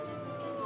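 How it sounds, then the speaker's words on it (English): A wolf growls and howls in a bedtime story, a sustained tonal wail that holds steady and swells slightly louder at the end, heard alone at close range. "The wolf began growling and howling"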